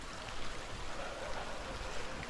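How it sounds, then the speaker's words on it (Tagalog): Steady broadband rush of flowing river water, close and constant with no breaks, no voices over it. "malakas yung agos ng tubig"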